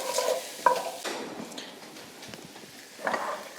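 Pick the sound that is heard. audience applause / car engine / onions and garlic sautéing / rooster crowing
onions and garlic sautéing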